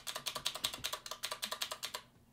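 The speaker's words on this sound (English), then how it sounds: "So you hear that clicky sound." A Qwerkywriter S mechanical keyboard with Cherry MX Blue keys typing, a rapid close run of about twenty sharp clicky keystrokes in an uneven rhythm, loud and alone, stopping abruptly near the end.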